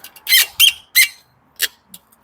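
A Batavus Holiday 28 bicycle with Nexus 8 gearing squeaks as a part is adjusted, a series of short high-pitched creaks in uneven bursts, close and fairly loud in a quiet setting.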